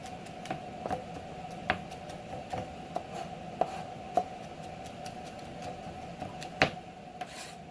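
Garlic cloves minced with a knife on a board, a string of irregular sharp chopping taps, some louder than others, over a steady low hum, no talk.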